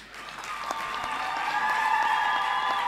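A church congregation standing to clap for the Lord during a service, a continuous wash of many hands applauding that swells slightly and holds steady, with no clear speech.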